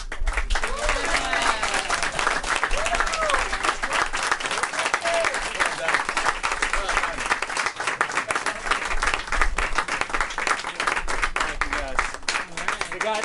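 Loud, sustained applause and clapping fill a bar concert crowd at Zinc Bar in New York City, dense and steady throughout with cheering voices mixed in.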